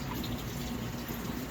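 Tap water pours steadily into a sink while a filter cover is rinsed, a continuous close hiss and splash with no voices.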